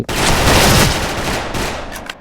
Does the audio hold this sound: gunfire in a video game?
yes